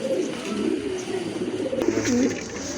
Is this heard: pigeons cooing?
yes